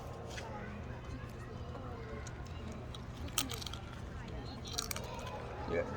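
Someone biting and crunching a hard sweet snack, scattered crisp crunches and chewing over about six seconds, fairly close, amid a steady background hum.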